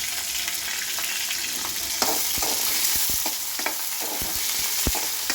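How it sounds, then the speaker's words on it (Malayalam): Garlic and ginger sauté with fenugreek in a pan over a low flame, a steady close sizzle broken by repeated scraping stirs and occasional sharper knocks of the spoon. "ഇനി ഇതൊന്ന് ചെറുതായിട്ടൊന്ന് വഴറ്റുക."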